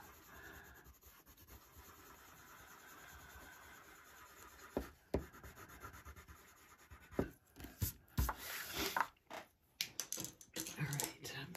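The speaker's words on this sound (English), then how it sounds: "now I can switch back to the color with the Caran d'Ache blender" Caran d'Ache blender pencil rubbing and scratching across a coloring page, soft strokes at first that grow into louder, quicker scribbling bursts, close up with no talking.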